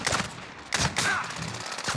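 Gunfire in COD Warzone Plunder aimed at a sniper on top of the airport, a few sharp shots and bursts with a shotgun among them, moderately loud over game ambience.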